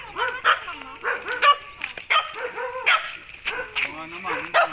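Dog barking in a rural Philippine yard, with repeated yips and barks mixed with someone talking in Tagalog; the barks are near and moderately loud, interleaved with speech.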